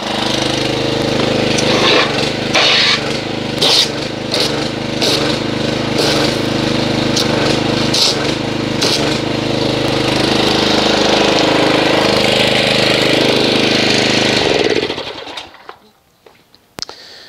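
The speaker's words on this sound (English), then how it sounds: "let me get the pressure washer, agitate this, and see what kind of foamage we get." A pressure washer sprays Jay Leno's Garage Vehicle Wash foam onto a car. The machine's loud, close, buzzing drone runs steadily for about fifteen seconds, then cuts off abruptly and leaves near silence.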